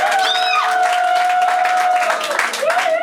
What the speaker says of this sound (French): Veuillez les acclamer, s'il vous plaît